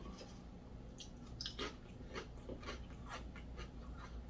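Thick, crunchy Lay's Funyuns-flavored potato chips being chewed close up, several crisp crunching bites over a steady low background hum, with no voices.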